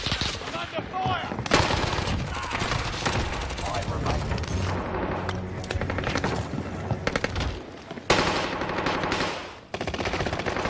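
Relentless automatic gunfire from a shooter video game, loud rapid bursts of machine-gun fire and single shots layered almost continuously, with voices faintly under the barrage.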